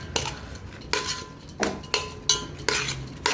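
Dal ingredients being mixed with soybean oil in a pot, with a utensil scraping and clinking against the metal in about six evenly spaced strokes, each ending in a sharp clink, close up.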